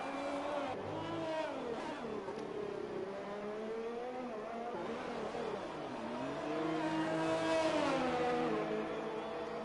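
An F1 race car engine in an esports racing game at the Mexican Grand Prix, screaming at high revs through the final turns of a lap. The pitch rises and falls with gear changes, loud and continuous with no talk over it.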